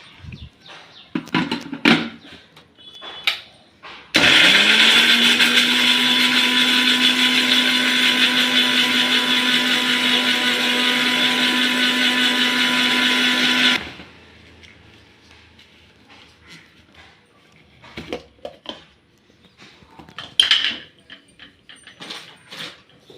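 Mixer grinder blending gooseberries with a little water into a paste, starting abruptly, whirring loud and steady for about ten seconds, then cutting off, with scattered kitchen clatter and handling noises before and after.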